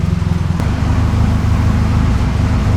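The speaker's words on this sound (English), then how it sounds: "I'm just gonna let the car warm up first for maybe about 5 minutes like that." A Toyota AE70 manual car idles while its engine warms up, giving a steady, close, loud low rumble with an even pulse throughout.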